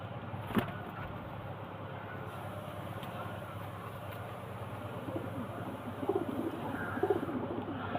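Pigeons at a home loft, including a male, give a couple of soft, low coos near the end against a quiet background hum.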